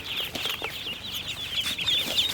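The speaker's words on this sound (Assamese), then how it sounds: "চাওক কি ধুনীয়া পোৱালি, কালাৰটো চাওক।" Local chicks and Khaki Campbell ducklings cheep steadily in a dense, continuous chorus of high peeping, close by and fairly loud, with no talking.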